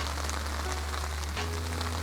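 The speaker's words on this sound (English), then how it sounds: "The wind is just relentlessly blowing the rain directly into the old facelator" Wind drives rain steadily at night beside the River Thames, a dense, even hiss of drops on surfaces with a low rumble of wind underneath, no voices.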